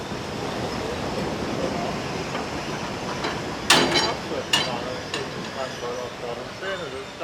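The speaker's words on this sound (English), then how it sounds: "As the train draws to a stop" A train draws to a stop at Fichtelberg railway station, steady rolling rumble with a few sharp clanks and metallic knocks near the end.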